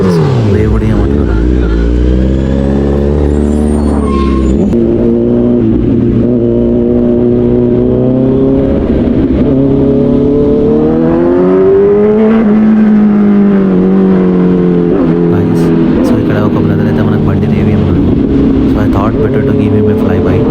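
A Kawasaki Z900 revs inside a tunnel, its loud engine note rising and falling through sustained throttle sweeps that echo off the walls, dominating throughout with a voice faintly underneath.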